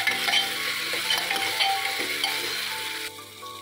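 Tomato and onion masala roasting in ghee for a potato dish, a steady close sizzle with soft stirring scrapes throughout, easing slightly near the end.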